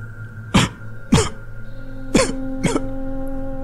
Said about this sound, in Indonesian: Suara batuk itu terdengar lagi